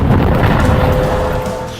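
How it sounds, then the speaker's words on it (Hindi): An anti-tank missile strikes a military post on the Lebanon border, and a loud, deep explosion rumbles heavily before slowly fading, with no voices present. "पहले धमाका, फिर पोस्ट का बड़ा हिस्सा ढह जाता है और आग लग जाती है।"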